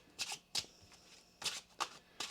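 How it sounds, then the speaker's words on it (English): Tarot cards are shuffled in several quick, crisp riffling bursts spaced apart, close and fairly quiet, with no talking over them. "One more shuffle here, please, and thank you."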